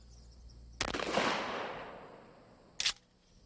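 A shotgun loaded with number 9 birdshot fires at a mannequin wearing soft body armor, one sharp blast with a decaying tail, then a second short crack about two seconds later, with no talking.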